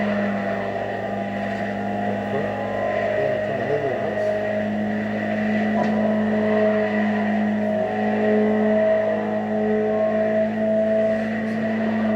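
A steady Ferrari engine drone in the racing game The Crew Motorfest hums continuously throughout, with a sustained tonal whine and slight shifts in pitch, like a powerful car cruising.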